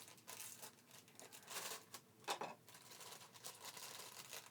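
Plastic packaging from an iPad 4 unboxing crinkles and rustles continuously in soft, close bursts. The sound is quiet overall, and no one speaks.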